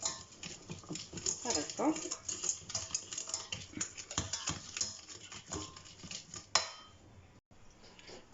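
A spoon stirs lemon juice into a simple dessert mixture, with quick light taps and scrapes against the bowl in a steady patter, close by, and a brief spoken word near the start.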